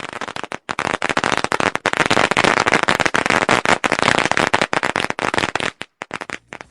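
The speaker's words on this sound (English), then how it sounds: "This is a firecracker." Firecrackers set off in celebration, as at Chinese New Year, crackle in a long, loud, dense string of rapid bangs, broken by a few short gaps toward the end.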